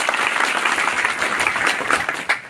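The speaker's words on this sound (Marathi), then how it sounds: "त्यासाठी पहिले टाळ्या वाजवल्या पाहिजे" Villagers at a rural panchayat gathering break into dense, steady clapping that fills the whole stretch without pause, loud and close, with a slightly sharper burst near the end and no talk over it.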